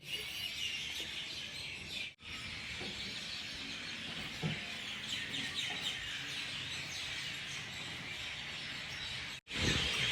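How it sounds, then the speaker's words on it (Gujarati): Faint chirps and tweets of small birds sound at a distance over a steady hiss of background noise, with no talking. "પક્ષીઓનો કલરવ જો"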